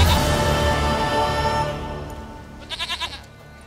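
Goat in The Witcher 3 bleating once, a short wavering call near the end, after a loud tonal backdrop fades away.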